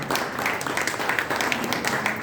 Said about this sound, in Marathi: त्यांच्यासाठी पण जोरदार टाळ्या वाजवा